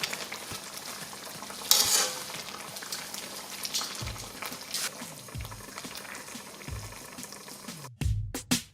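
Fish and taro frying in a pan with fish sauce, garlic and chili, stirred with a utensil: steady sizzling and bubbling with scraping stir strokes and a few clanks near the end.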